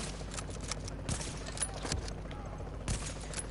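Gunfire in the game The Division: a quiet, muffled string of rapid, irregular shots and clatter in the background, with soft thuds spaced through the clip and no clear talk.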